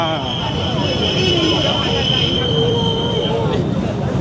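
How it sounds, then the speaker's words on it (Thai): A train arriving at a platform rumbles steadily with a high metallic whine, a loud continuous roar while a voice talks over it. "รถไฟวิ่งเข้ารับชานชาลา"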